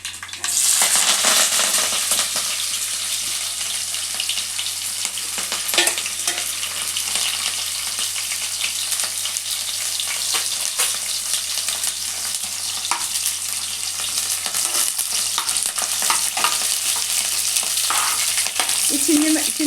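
Chopped onion, two or three green chillies and fenugreek leaves frying in a pan for a fish curry, giving a loud, steady sizzle with scattered stirring clicks throughout, no talking.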